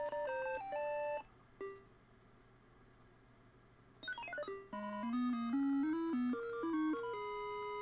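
Bleepy chiptune melody and electronic sound effects from the ColecoVision version of the Venture video game play at a low level, with a brief near-silent gap before the tune resumes.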